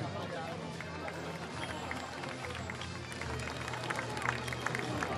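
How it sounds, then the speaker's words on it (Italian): A crowd applauds the podium at a cycling race, a steady spread of clapping under loud outdoor hubbub and nearby voices, continuing throughout. "Facciamo ancora un applauso, signore, al podio."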